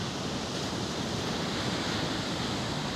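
Ocean waves wash steadily onto Depot Beach, a loud, continuous broadband roar of surf with no pauses, dominating the scene.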